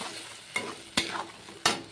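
Tomato paste added to spices frying in oil for rohu fish kofta curry, a close sizzle with three sharp stirring scrapes of a spoon against the pan.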